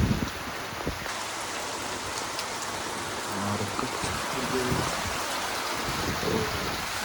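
Steady hiss of rain falling where cows and buffalo are kept, a broad constant wash of sound with a few faint low knocks and distant noises underneath.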